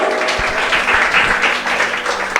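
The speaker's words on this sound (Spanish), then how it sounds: "Dale un aplauso al Señor." A church congregation applauds for the Lord during a service, a loud, continuous wash of clapping with a few heavy thumps early on and no speech over it.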